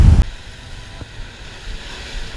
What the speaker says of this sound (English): you can probably tell it's really windy